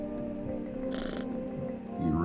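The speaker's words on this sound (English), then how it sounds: "You reach out and pet the cat." A video game cat being petted gives a short meow or chirp over a continuous droning game background, with a purr-like rumble and a voice speaking briefly.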